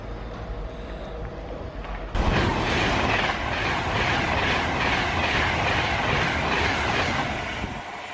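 A CrossCountry passenger train bound for Stansted Airport passes at the south end of a station with a loud, sustained rumble and rhythmic clatter that builds sharply and holds steady, then eases slightly.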